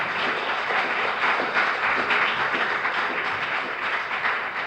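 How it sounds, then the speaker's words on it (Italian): A dense, steady wash of audience applause fills a literary prize ceremony hall for the 52nd Premio Campiello, continuous and fairly loud throughout with no voices over it. "Un applauso per cominciare."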